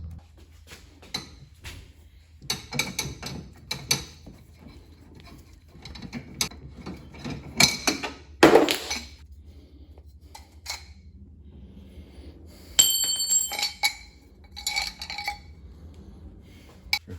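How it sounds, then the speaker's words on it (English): Metal tool work on a broken tie rod on a Mustang, using an Irwin extraction tool: repeated sharp clicks, ratcheting and scraping in irregular bursts, with a loud grinding rasp near the middle and a bright metallic ring later. "I'm going to use one of these Irwin extraction tools"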